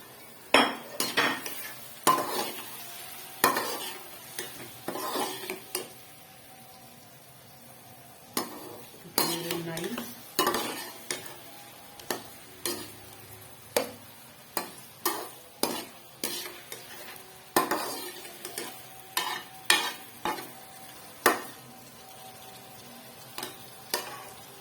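Ginger, garlic and green chilli paste is stirred and fried in a pan for kofta curry, with frequent sharp scraping and clinking of a spoon against metal over a faint sizzle, irregular and close.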